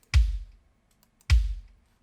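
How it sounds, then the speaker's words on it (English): A Yamaha kick drum sample struck twice about a second apart, each hit a deep, close thump with a bright click on the attack and a quick decay into near silence. "So this is a Yamaha kick."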